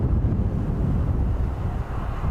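Strong crosswind gusting at 25 to 26 knots buffets the microphone at an airport. A steady, loud, low roar plays alone with no break.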